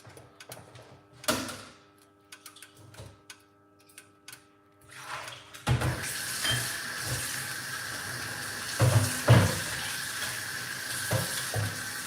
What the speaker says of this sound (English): I'm going to wash off my ingredients.